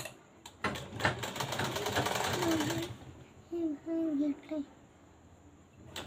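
A sewing machine stitches a strip onto a blouse sleeve with a fast, even mechanical rattle for a couple of seconds before it stops, and a voice speaks briefly afterward.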